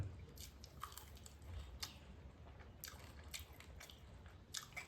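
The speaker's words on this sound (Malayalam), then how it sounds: "നന്നായി ചാവിക്കട്ടാ" Faint, close crunchy chewing of small fried fish caught from a dam, bones and all, soft bites and munching in quiet irregular bursts.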